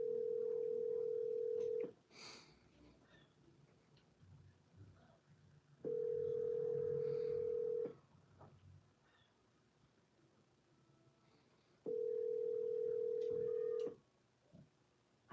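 An outgoing telephone follow-up call to a real estate seller, with three long, steady ringback tones spaced about six seconds apart over faint line hiss and small clicks between rings.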